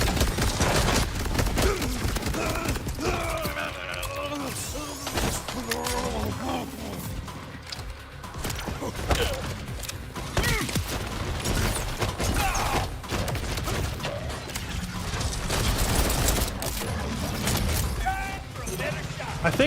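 Underbarrel weapon fire in the video game Borderlands 4 sounds as a dense volley of shots mixed with mechanical clanks, running under steady in-game talk and busy combat noise.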